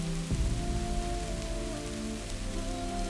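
Rain falls as a steady broadband hiss with a constant low hum underneath, a brief knock near the start, and no voices.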